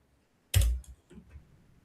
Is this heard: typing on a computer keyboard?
yes